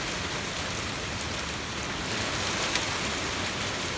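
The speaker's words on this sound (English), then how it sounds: "The wind's still blowing and then raining again. It just started raining again." Rain falls steadily during a windy, cold storm over a big cattle pasture, a dense hiss of drops on surfaces with gusting wind, constant and fairly loud, with one brief sharper tap near the end and no talk.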